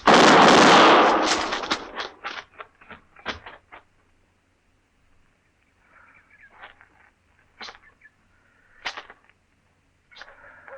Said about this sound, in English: Don't shoot, Rose. I'll take him